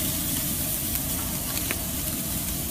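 Herb-seasoned chicken drumsticks and thighs sear in a hot pan, a steady, dense sizzle and crackle held at an even level close by, with no talking.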